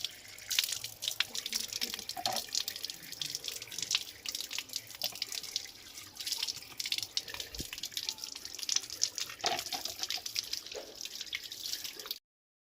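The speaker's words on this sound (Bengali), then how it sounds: "মা এখানে মাংস ধুচ্ছে।" Meat is washed under a running kitchen tap, making a continuous hiss of flowing water with irregular drips and splashes as it is handled in the sink, close and moderately quiet.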